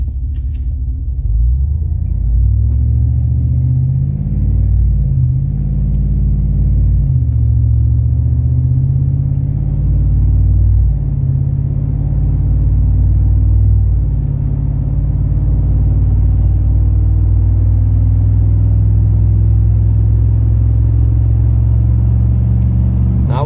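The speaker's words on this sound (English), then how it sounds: "This is what it's like inside the cab without the muffler on there." Steady, loud low-pitched engine drone heard from inside the cab of a 2021 Chevrolet Silverado with the 6.2 engine and no muffler, cruising at about 60 mph up a 4% grade, with a continuous rumble and slight shifts in tone throughout.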